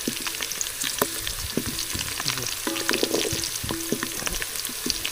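Green chillies frying in a pan of chicken curry, a steady close sizzle with the scrape and clatter of stirring running throughout, no talk.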